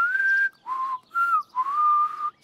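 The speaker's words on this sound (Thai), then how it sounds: "จะผิวปากได้ก็ต้องฝึกเยอะ" Someone whistles with pursed lips in four short, clear tones, each held briefly with small pitch glides and separated by quiet gaps; no talking is heard.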